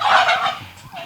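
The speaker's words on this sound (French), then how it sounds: "les dindons." Farm-raised turkeys gobble loudly nearby in a quick, warbling burst, a second call trailing off softly at the end.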